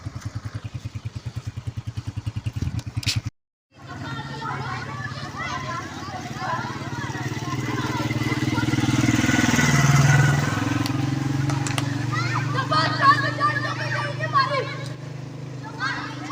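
A motorcycle ride with a steady low engine drone and road rumble, dropping out briefly then swelling louder and continuing under intermittent talk and background chatter.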